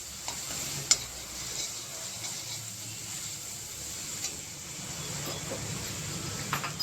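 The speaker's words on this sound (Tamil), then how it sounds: "நல்லா ஃப்ரை ஆகுது, தெரியுதா?" Onions frying and being stirred in oil for channa masala, a steady soft sizzle with occasional scraping and clicking of the spoon against the pan.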